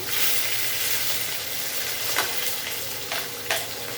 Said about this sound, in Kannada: ಎಣ್ಣೆ ಕಾದಿದೆ ಸಾಸಿವೆ ಹಾಕ್ತಿದೀನಿ ಜೀರಿಗೆ ಹಾಕ್ತಿದೀನಿ